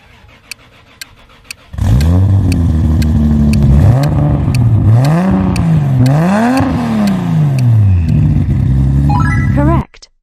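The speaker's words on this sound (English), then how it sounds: "The sound of JDM royalty making a comeback. Toyota Supra." A Toyota Supra engine starts and revs hard several times, its loud, close rising-and-falling roar climbing and dropping in pitch before cutting off, with faint ticking before it starts.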